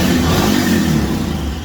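A Royal Enfield Himalayan motorcycle engine runs steadily just after starting, a loud, close, continuous thumping drone with no voices over it.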